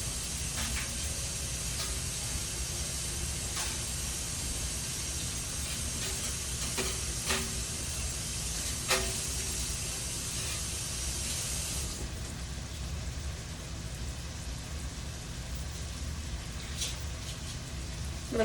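Running tap water streams steadily over a bunch of cilantro being rinsed, a constant broad hiss with a few small clicks and splashes, close by, cutting off partway through to a quieter background.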